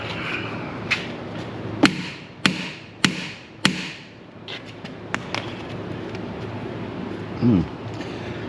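A hammer strikes metal while removing an Eaton 402 front differential from a Peterbilt 359, a series of sharp, ringing blows, roughly evenly spaced, then a few lighter taps and a brief scraping sound.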